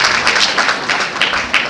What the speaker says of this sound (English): A round of applause for Baba Anila, please.